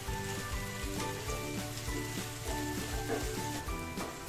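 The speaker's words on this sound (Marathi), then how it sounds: "आता पुढे आपल्याला दोनच मिनटं भाज्या परतून घ्यायचे" Mixed vegetables, including sliced bell pepper, sauté in a kadhai for a dhaba-style mix veg, giving a steady, dense sizzle and crackle under faint background music, with no talking.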